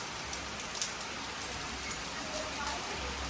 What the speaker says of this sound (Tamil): அப்படின்னா மழை பெய்யுது